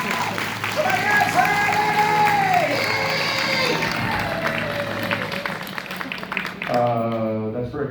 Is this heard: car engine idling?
no